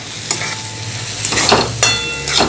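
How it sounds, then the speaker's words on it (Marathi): A half portion of ground coconut masala paste with onion and tomato is stirred and fried in a pan for chicken, with repeated spoon scrapes and a soft sizzle under them, close by. "हे व्यवस्थित मिक्स करून घेऊया आणि हे वाटण आणि कांदा आणि टोमॅटो परत आपल्याला दोन मिनटं छान असं भाजून घ्यायचं आहे"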